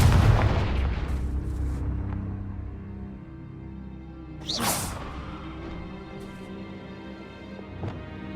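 A Confringo blasting spell in Hogwarts Legacy, a heavy booming explosion that decays over a couple of seconds, followed by a sharp whooshing burst and a smaller thump amid game ambience.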